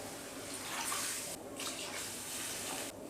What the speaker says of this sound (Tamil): இப்போ இதில் மட்டன் வேகிறதுக்கு தேவையான அளவுக்கு தண்ணி சேர்த்துடலாம்.